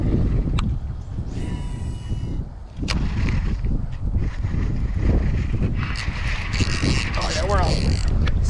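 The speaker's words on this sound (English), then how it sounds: "Now at this spot, there's a ton of wind." Wind gusts across the microphone at a golf course pond, a heavy rumbling buffet that runs throughout, with some creaks and handling noises mixed in.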